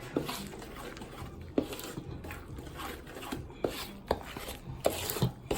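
Ingredients for a three-meat seafood dressing stirred together in a bowl, with repeated scraping strokes and periodic dull knocks of the utensil at a moderate rhythm, close by and without talking.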